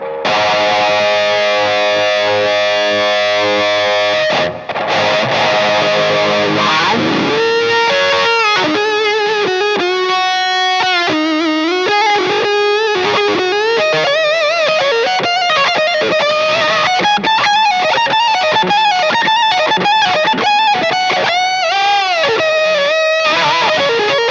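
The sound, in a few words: electric guitar through wah pedal with boost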